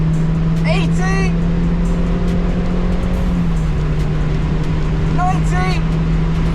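A Mazda MX5 driven hard around a race track, its engine a loud, close, steady drone with a high whine, briefly overlaid by a voice.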